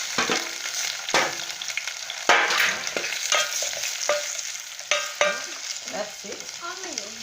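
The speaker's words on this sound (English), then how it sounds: "Now we are going to put in our tomatoes" Five tomatoes frying in a pan with eggs, a crackling sizzle broken by several sharp stirring scrapes and clatters of a utensil, close up with no speech.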